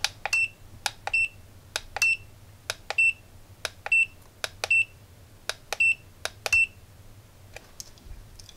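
An Aneng 613 digital multimeter clicks sharply as its internal relay switches while options are chosen, a rapid series of crisp clicks paired with short electronic beeps over a faint low hum, with no talking.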